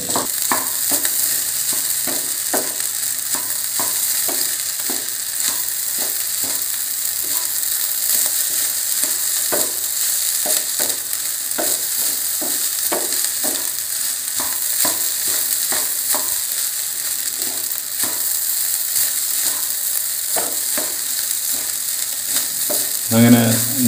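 Egg fried rice with spring onion sizzling in a hot pan while a spatula stirs and scrapes it in a steady run of rapid clicking strokes for over twenty seconds. The sound is close and continuous, with no voices.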